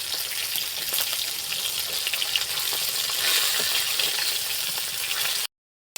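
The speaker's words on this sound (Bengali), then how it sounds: "এখন ভেজে নেব মাছের মাথা।" Fish heads frying in hot oil in a pan, a dense, steady crackling sizzle close by that keeps going unbroken for about five seconds before cutting off.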